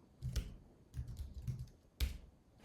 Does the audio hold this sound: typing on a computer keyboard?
yes